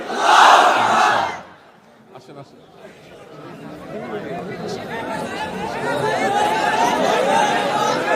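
A large crowd shouts Allahu Akbar in unison in answer to a takbir call, a loud roar that fades, then a building murmur of many voices chanting at a distance.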